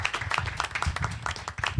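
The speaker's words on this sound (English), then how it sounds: "A round of applause for Melissa Abernathy helping us out." Audience applause at a Hoboken city council candidates forum held in a theatre venue: steady, dense clapping from a crowd, fairly close and continuous, with no talk over it.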